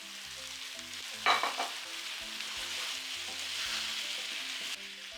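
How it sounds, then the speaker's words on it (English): Potatoes frying in a pan with salt, black pepper, onions, ginger and garlic: a sudden clatter as they drop in, then a moderate steady sizzle under quiet background music. "Now into the pan, add the potatoes."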